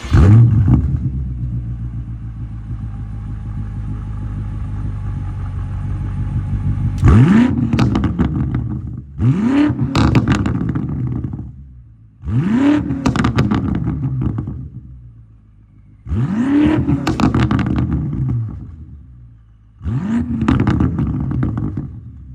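A 2022 BMW M5 Competition F90 starts up and idles before its engine is revved five times in succession, each rev a loud, close rise and fall followed by a drop back to idle.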